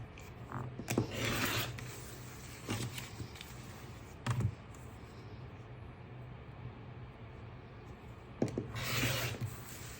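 A quilt block being trimmed to exact size, with scraping, rasping cuts in a few bursts against a steady low hum in a quiet room.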